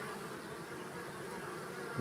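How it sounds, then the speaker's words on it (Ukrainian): A dense, steady buzz of many honeybees from a newly hived swarm flying close by, a continuous droning hum with no voices, fairly faint overall. "Бджілки працюють на новому місці."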